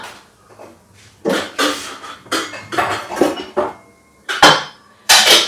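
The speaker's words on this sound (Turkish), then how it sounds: "Bulaşıklarım var. Birkaç tabak, kaşık, çatal," Plates, spoons and forks are put away by hand, a close series of loud clattering clinks and ceramic knocks in irregular bursts with short quiet gaps between.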